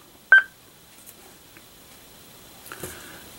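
A single sharp electronic beep from a button tap on a Yaesu 2800M radio transceiver, close and clear, followed by a fainter second tone and quiet handling noise.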